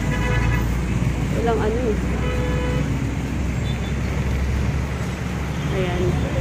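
Busy roadside traffic with cars and tricycles passing near a school, a constant loud rumble of engines with a few short horn toots, while a person talks over it.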